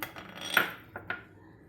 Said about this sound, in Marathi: मी आता ह्यामध्ये टाकते हे खरबूजचे बी